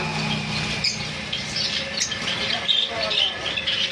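Rosy-faced lovebirds squawk and chirp in sharp, repeated bursts at a bird sale, moderately close, mixed with a busy crowd and someone talking over them.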